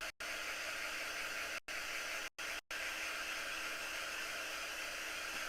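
A hair dryer blows steadily to dry a freshly painted craft project, a loud, even rushing hiss that cuts out abruptly four times for brief pauses.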